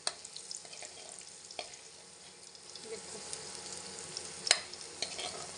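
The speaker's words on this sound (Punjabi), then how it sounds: "ਤੇਲ ਆਪਣਾ ਗਰਮ ਸੀ ਜੀ ਵਧੀਆ ਗਰਮ ਸੀ ਲਸਣ ਆਪਣਾ ਬ੍ਰਾਊਨ ਹੋ ਗਿਆ" Garlic browning in hot oil in a pan for a matar aloo curry, a soft continuous sizzle with scattered light taps and a brief utensil clink near the end, heard close and fairly quiet.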